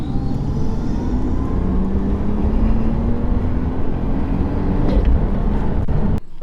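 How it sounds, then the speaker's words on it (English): A turbocharged Lexus IS200 engine drones steadily and loudly with a rising whine, cruising under boost, continuous throughout with a brief dip near the end. "You can't argue with turbo noises."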